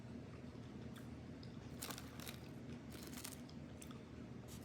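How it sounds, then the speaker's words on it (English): Crunchy chewing of popcorn chicken close to the ear, with bursts of crisp crackling as food breaks between the teeth, steady and continuous with no talking. "You can hear this crunch between my teeth."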